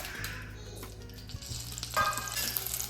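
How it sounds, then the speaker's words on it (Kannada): Six or seven byadgi chillies sizzle in hot coconut oil in a pan, a steady close crackle with a low hum beneath and a brief louder burst of frying near the end. "ಈಗ ಇದಕ್ಕೆ ಇದರಲ್ಲಿ 6ರಿಂದ 7 ಮೆಣಸುಂಟು, ಬ್ಯಾಡಿಗೆ ಮೆಣಸು ಹಾಕ್ಕೊಳ್ತಾ ಇದ್ದೀನಿ"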